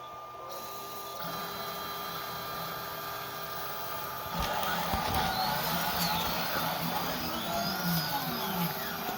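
A custom 3018 CNC machine cutting a 100 millimetre diameter circle gives off a steady, loud motor and spindle whine, joined midway by sweeping stepper tones that rise and fall as the cutter traces the curve.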